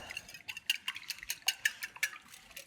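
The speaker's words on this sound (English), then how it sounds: "And whisk your eggs up" Eggs with a spoonful of vanilla are beaten in a bowl for a carrot cake, giving quick irregular whisk taps and scrapes against the bowl, fairly close and quiet, with no one talking.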